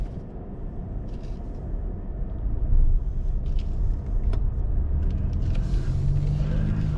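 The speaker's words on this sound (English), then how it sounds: "we are pulling out of Ciocca Lincoln in this Continental" A 2020 Lincoln Continental Reserve AWD pulling out of a dealership onto a busy road, heard from inside as a steady low engine and road rumble that swells slightly, with traffic around and no talk.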